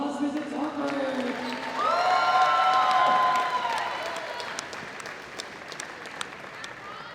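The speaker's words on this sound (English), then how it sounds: "Round of applause, Mrs." A gym crowd applauds a girls' varsity volleyball senior night honoree walking out with her family at a Wakefield vs Watertown match; steady clapping swells with whoops and cheers, then thins out, with voices mixed in.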